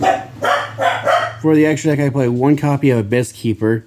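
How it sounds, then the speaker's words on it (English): Dogs barking in the background, a few sharp yips mixed under someone talking steadily close to the microphone. "They like to bark at everything and anything that goes by."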